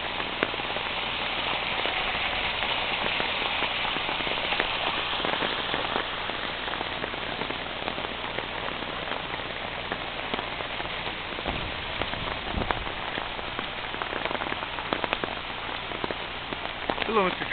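Isabella Creek rushing beneath a bridge, a steady broadband wash of water that stays loud and continuous throughout, with no voices over it.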